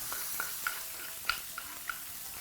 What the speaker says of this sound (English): proceed to scoop your garlic from the mortar. And proceed to add onto your hot pan